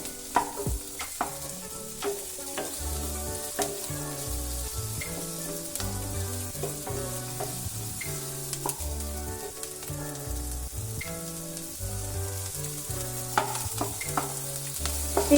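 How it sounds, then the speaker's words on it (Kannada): Onions sizzle steadily in butter in a hot pan, frying toward golden brown, with occasional stirring scrapes, and faint music plays in the background. "ಇದು ಕೂಡ ಸ್ವಲ್ಪ ಗೋಲ್ಡನ್ ಬ್ರೌನ್ ಆಗೋವರೆಗೂ ಇದನ್ನು ಫ್ರೈ ಮಾಡ್ಕೋಬೇಕಾಗುತ್ತೆ ಈರುಳ್ಳಿನ ಕೂಡ"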